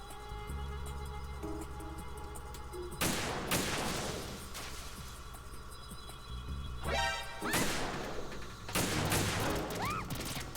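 Bursts of gunfire in the Metal Gear Solid 2 video game, with several loud sharp volleys and cracks that break through a steady background hum of game ambience.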